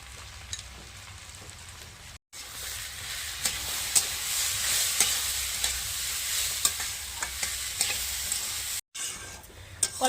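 Lentils for khichuri sizzle and crackle as they fry in mustard oil in a pan. The frying noise is steady and close, broken by sharp stirring scrapes and two brief cutoffs, with no talking.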